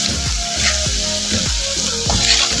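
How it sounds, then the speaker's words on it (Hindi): Cream is stirred into a sizzling mutton white karahi, with a steady loud sizzle and rhythmic stirring and scraping strokes about every half second, and no talk. "Half cup cream. इसको अच्छे से मिक्स करें।"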